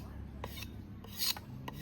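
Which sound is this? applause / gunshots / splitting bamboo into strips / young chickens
splitting bamboo into strips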